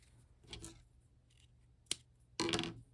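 Scissors trimming extra yarn from a small crocheted axolotl: a few quiet, close snips and rustles, with one sharp click and a louder final cut.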